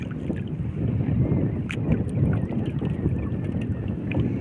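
Wind blows steadily across the water around a small paddled fishing boat, a broad, moderately loud rushing that swells and eases with faint knocks and splashes, and no voices.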